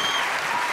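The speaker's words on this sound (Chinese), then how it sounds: "掌声！" An audience at a live event featuring a cheerleading dance breaks into brief, dense applause, a uniform roar of many overlapping claps, loud and sustained.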